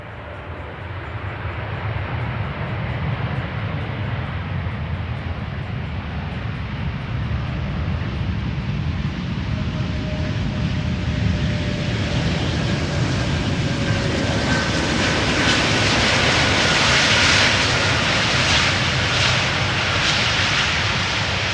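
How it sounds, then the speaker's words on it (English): A Turkish Airlines Airbus A330-300 jet arrives at Amsterdam Schiphol after a flight from Istanbul. Its broad, steady engine roar builds from fairly loud to louder and closer across the whole stretch, heard alone with no voices. "Turkish Airlines flight 1951 arriving from Istanbul"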